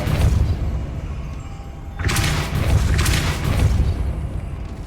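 Depulso spell cast in the Hogwarts Legacy game, a sudden whooshing blast burst that flares at two seconds and again near three, over a low rumbling background hum, no talk.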